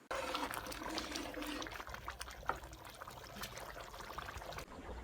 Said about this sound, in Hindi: भुनाई करने के बाद अब हम इसमें डालेंगे 1 कप पानी